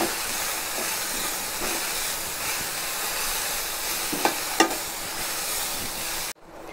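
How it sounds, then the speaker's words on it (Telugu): Grated carrot fries in very hot ghee in a pan with the stove turned off, giving a continuous, close hiss with a few brief crackles before it suddenly cuts off. "స్టవ్ కట్టేసి ఒక 2 minutes క్యారెట్ని ఫ్రై చేసుకుంటాను."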